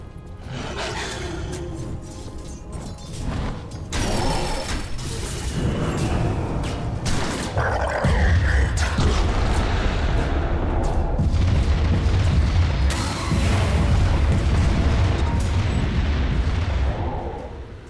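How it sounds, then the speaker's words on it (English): Booming, explosive combat noise from a Dota 2 battle as Radiant's top tower is attacked, a dense continuous barrage of heavy thuds and impacts with a deep rumbling low end throughout. "Radiant's top tower is under attack."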